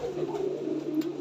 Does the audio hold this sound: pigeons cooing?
yes